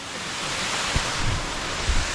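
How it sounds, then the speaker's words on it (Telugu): Rana Jilledi waterfall in Araku gives a continuous, loud rush of falling water, a broad steady roar mixed with wind buffeting on the microphone and no voices. "సో ఇదే రానా జిల్లేడి వాటర్ ఫాల్స్ గాయస్."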